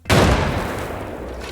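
A grenade thrown in the video game Arena Breakout Infinite gives one sudden loud, booming burst that decays over about a second and a half.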